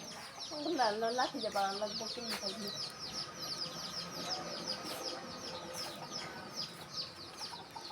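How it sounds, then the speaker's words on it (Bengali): Several chickens cluck and squawk close by, a burst of calls early on, then softer scattered clucks over a light background hiss. "এই যে দেখেন একটা মুরগির খোয়ার"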